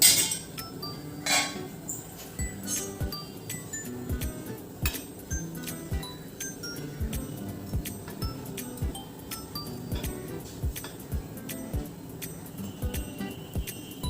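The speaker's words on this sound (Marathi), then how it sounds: "आता आपण आपे सर्विंग डिशमध्ये काढूयात" Light metallic clinks and scrapes, like a utensil tapping a pan, as cooked sago appe for a fasting recipe are lifted out of an appe pan into a serving dish; the small taps repeat irregularly and close by, with no talk.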